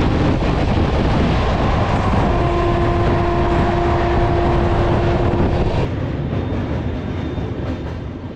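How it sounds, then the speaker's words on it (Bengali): Howrah–Bengaluru Duronto Express rumbling across the Rupnarayan river bridge at Kolaghat, a loud, steady roar of wheels and rails with a sustained metallic squeal through the middle, then the tone drops and thins as the crossing ends. "এখন আমরা পার হচ্ছি কোলাঘাটের রূপনারায়ণ নদের ব্রিজ"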